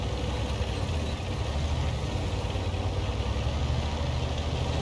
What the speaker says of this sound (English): We've got engine noises.